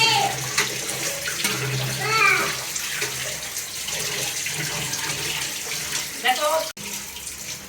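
Running tap water splashes over a large fish belly being washed in a sink while preparing a rice and fried fish meal; a steady close pour runs throughout with brief talk over it.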